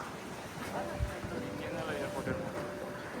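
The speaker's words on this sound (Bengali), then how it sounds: "এয়ারপোর্টে প্রচন্ড হাওয়া দিচ্ছে" Strong wind at Santorini airport buffets the microphone with a steady, rough roar and low gusts, and faint voices sit underneath.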